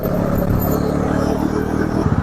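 Dense Bangalore road traffic heard from a Bajaj Pulsar NS400Z motorcycle: a continuous loud engine drone and road rumble, close and steady for two seconds, with a rough revving burst near the end.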